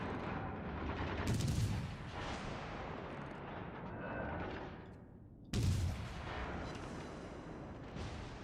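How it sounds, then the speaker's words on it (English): Constant heavy rumbling of naval explosions and gunfire in World of Warships Legends, with two sharper booming blasts standing out from the continuous din. "Watch those explosions."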